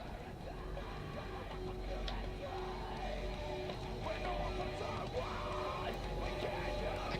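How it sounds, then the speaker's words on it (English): Screaming music from the video game Secret World Legends: harsh yelling and bellowing voices rise and fall over a dense, droning backdrop, held at a moderate, steady level. "I can't stand screaming music"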